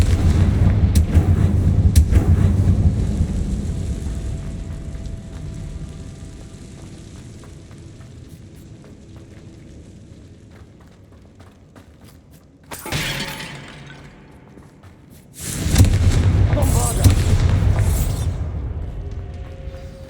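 Confringo fire spell explosions in the video game Hogwarts Legacy, a rumbling blast that fades, then two sharp shattering bursts of debris and crackle later on, with no voices.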